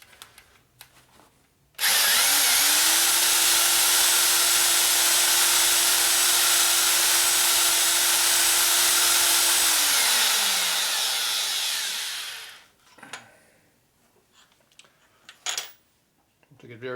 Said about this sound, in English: Now we go ahead and drill this in into the case.